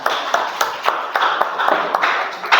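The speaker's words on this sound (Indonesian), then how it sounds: "tepuk tangan untuk kelompok 1 ya" A small group in a classroom claps for a student group, with distinct, fairly rhythmic handclaps over a soft murmur, close and moderately loud.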